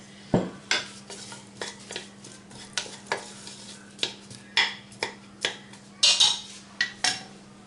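Two garlic cloves frying in a pan while being stirred, with a steady sizzle under repeated sharp scrapes and clinks of a utensil against the pan in an uneven rhythm, close and fairly loud, with no talking.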